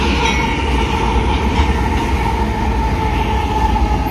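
A Union Pacific intermodal freight train led by locomotive 7239 rolls past a road crossing at about 60 mph, producing a loud, steady rumble of wheels and cars with a faint high squeal, close by and alone.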